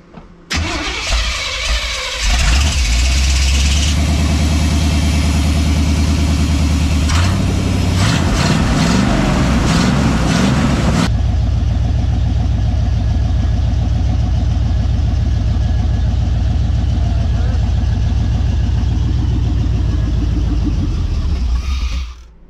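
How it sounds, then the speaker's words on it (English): A car on its first test drive: the starter cranks briefly, then the engine catches and idles loudly and steadily for about twenty seconds before cutting off. "give it throttle and start it up"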